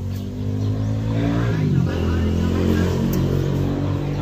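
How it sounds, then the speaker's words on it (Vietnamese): Diesel engine on a pump unit running at a steady, loud, close idle with a brief rise in revs partway through, no talk over it. "Đây động cơ."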